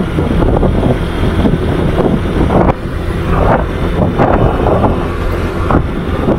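Steady wind buffets the microphone with loud, rumbling gusts throughout while riding uphill toward Adams, Ilocos Norte, no voices heard.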